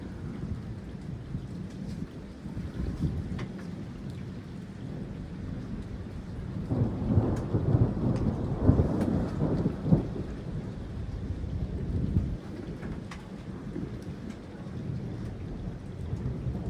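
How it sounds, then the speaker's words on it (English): Rain pouring during a lightning storm over the Chicago metro area, a steady hiss of falling rain with deep rumbling thunder swelling in the middle and then fading back, heard from nearby with no voices. "Assuming this is the rain again."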